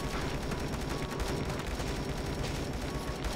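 Dense, continuous rapid gunfire and explosions from the game Dead Ahead: Zombie Warfare, loud and unbroken throughout with no talking.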